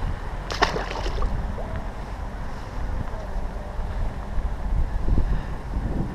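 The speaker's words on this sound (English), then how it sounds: "that wind is blowing right in here" Wind blows steadily across a park pond in New Jersey during a fishing trip. It makes a continuous loud rush with buffeting on the microphone and no clear talk.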